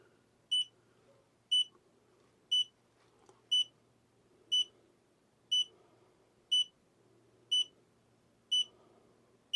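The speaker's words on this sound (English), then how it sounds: "You'll hear a couple of beeps and buzzers" Nine short electronic beeps from a campervan control panel repeat at an even pace about once per second, crisp and clear over a faint low hum.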